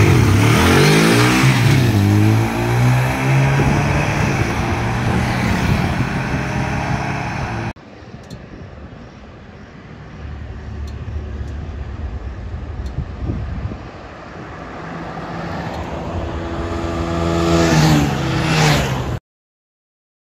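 Two TVS Apache 160 motorcycles, 2013 and 2018 models, rev and accelerate hard in a drag race, loud engine roar rising in pitch, then fading with distance before surging again, ending abruptly; no talk.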